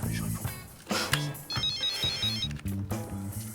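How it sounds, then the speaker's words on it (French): A mobile phone rings with a repeating electronic ringtone melody over a musical background, played in short bursts at moderate loudness with no talking. "il y a son téléphone qui sonne, elle a dû l'oublier"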